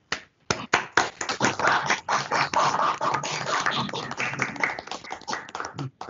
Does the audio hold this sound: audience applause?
yes